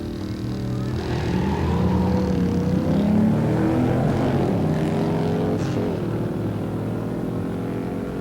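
A 1969 Camaro 427 four-speed and a 1970 GS 455 Stage 1 convertible roar down a drag strip at a pure stock race, loud engines rising in pitch through shifts and then fading as they pull away.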